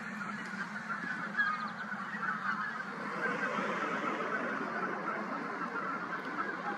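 A flock of geese honks steadily over a field crowded with hundreds of other birds, the calls blending into a continuous, moderately distant chorus with no voices.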